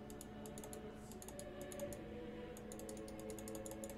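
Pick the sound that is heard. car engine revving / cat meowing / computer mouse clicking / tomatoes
computer mouse clicking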